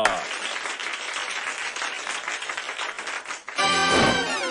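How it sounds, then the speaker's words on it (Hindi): A group claps together in a Chacha Chaudhary cartoon, a dense steady burst of applause filling the scene for several seconds before cutting off into a brief louder tonal sound at the end. "तालियां!"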